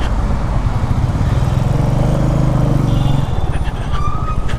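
A Royal Enfield Meteor motorcycle rides over harsh potholes on a bad road, its engine a loud steady thrumming drone close up, with wind rush and a few faint higher tones near the end.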